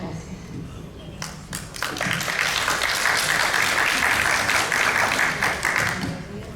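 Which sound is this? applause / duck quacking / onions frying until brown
applause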